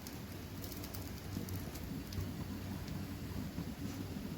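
Pav bhaji khakhra sizzles on a hot tawa, a steady, even hiss and crackle like light rain that continues without pause.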